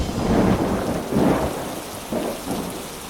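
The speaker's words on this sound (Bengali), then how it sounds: "এই রে, বৃষ্টি শুরু হবার আর সময় পেল না।" Cartoon thunder rumbles with rain starting, several loud rolling low booms in quick succession over a steady hiss of rainfall, with no voices.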